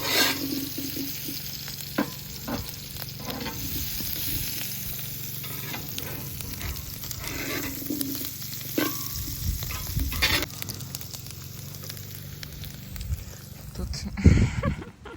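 Lamb and potatoes sizzle in a pan with occasional stirring and scraping, a continuous crackle heard up close.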